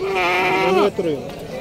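Goat bleating at a goat market in Tando Adam, Sindh: one long wavering bleat up close followed by a shorter second cry, with faint background bustle.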